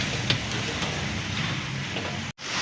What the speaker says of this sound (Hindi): खूब तेज़ बारिश शुरू हो चुकी है गर्मी के ज़ोर के बाद